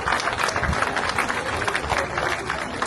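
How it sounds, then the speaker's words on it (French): An outdoor crowd in Valras applauding rescuers, a dense wash of clapping from many people at moderate distance, continuous throughout with faint murmuring beneath. "Allez, on les applaudit une nouvelle fois"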